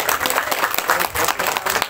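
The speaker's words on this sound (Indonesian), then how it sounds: "kita beri tepuk tangan" A crowd at a foundation's anniversary and groundbreaking ceremony applauds with brisk, dense clapping, fairly close and steady throughout.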